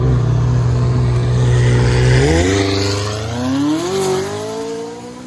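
A loud, close 2017 McLaren 570S 3.8L twin-turbo V8 with straight-pipe exhaust growls at a rumbling idle, then revs up sharply with a rising whine, climbing and surging again before easing off.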